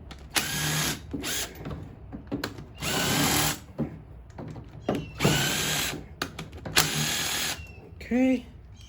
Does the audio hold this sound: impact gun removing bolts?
yes